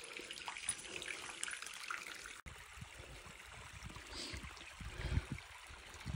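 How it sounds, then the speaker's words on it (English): A small waterfall of fresh spring water trickles at a desert oasis campground in New Mexico, a steady faint splashing and running-water wash with no talk. "It's not like a huge waterfall, but look at that."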